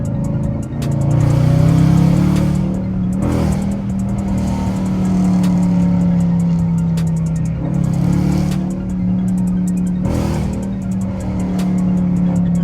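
A loud Dodge Challenger R/T engine drones close by in traffic, rising and falling in pitch with a few sharp blips as it revs after downshifts.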